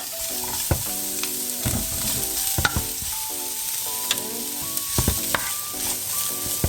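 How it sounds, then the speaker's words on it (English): Chorizo fries in a dry pan without oil, making a close, crackling sizzle punctuated by sharp pops and spatters throughout, with no talking. "we start off with chorizo to fry that off"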